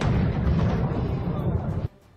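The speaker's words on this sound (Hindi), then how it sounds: "मिसाइल की इमारत से टकराने के बाद इतनी जोर का धमाका हुआ कि कई किलोमीटर दूर तक उसकी आवाज सुनाई दी" A missile strikes a building in Kharkiv with a loud, sustained blast, a broad roaring rumble lasting about two seconds before cutting off abruptly into quiet.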